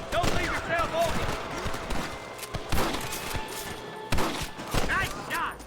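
Shootout gunfire from Red Dead Redemption: a volley of overlapping gunshots, several loud sharp cracks and fusillade bursts across the clip, with voices talking between the shots.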